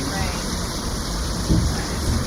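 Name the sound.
heavy rain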